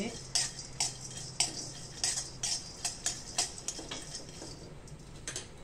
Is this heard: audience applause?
no